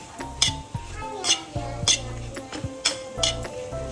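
Sooji being stirred and roasted in a pan for malai halwa, a spoon scraping and clinking against the metal in repeated strokes, close and fairly quiet, with no talk over it.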